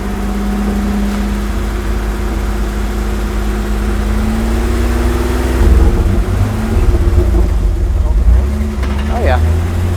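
A 1983 GMC Squarebody pickup, freshly freed after years stuck in a tree, runs steadily while being driven through its gears, with a continuous low engine drone that lifts partway through and people talking over it.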